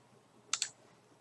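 Two quick, close mouse clicks on a PowerPoint setting in a quiet room, a short double tap near the middle and nothing else around it.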